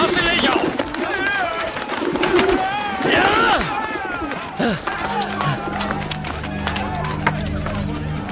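Pigeons cooing and calling in a temple courtyard scene, with busy bird chatter over a crowd backdrop, while a voice speaks over the sounds.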